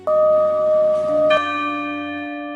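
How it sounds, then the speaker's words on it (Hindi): Two clear strikes of a distant temple bell ring out with long sustained, shimmering tones that hang and slowly fade, with no other sounds. "तभी दूर से घंटे की आवाज आई।"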